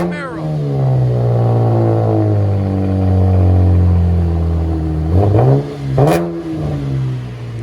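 A 2015 Chevy Camaro with a 3.6L V6 and dual exhaust fitted with an axle-back kit revs up close and loud, holding a sustained throaty drone before several sharp blips near the end.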